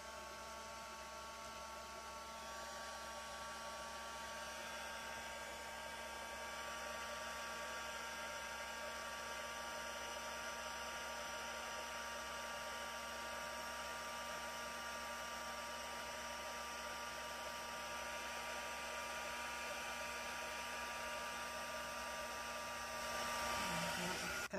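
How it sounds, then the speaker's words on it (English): A heat tool melting embossing powder on a greeting card gives a steady, quiet fan whir with a faint electric hum, running continuously for about twenty-five seconds with no speech. "I'm going to use my heat tool to"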